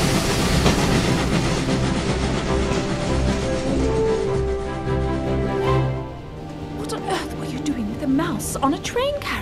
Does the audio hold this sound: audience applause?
no